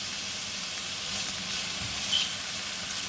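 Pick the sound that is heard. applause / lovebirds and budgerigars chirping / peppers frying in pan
peppers frying in pan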